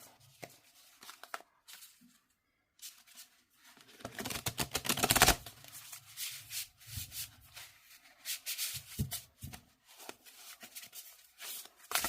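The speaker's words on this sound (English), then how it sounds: "I'm going to shuffle." Rustling, rubbing tarot card shuffles in uneven bursts, with quiet gaps and a louder riffle in the middle, close up; the cards are large.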